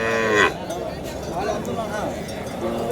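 Dairy cattle moo at a livestock market in Tiruvannamalai, with one loud, drawn-out call early on and fainter bellows after it, over crowd chatter and nearby talk.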